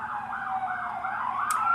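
An ambulance or police siren wails past outside a house near a police station, its rising and falling tone steady and fairly loud for the whole stretch, with a brief high click near the end.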